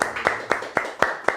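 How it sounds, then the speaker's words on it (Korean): Five or six sharp, evenly spaced claps ring out in a church service welcoming a new member, each a crisp nearby burst with a short tail, no talking over them. "여러분 박수 한번 쳐주시죠."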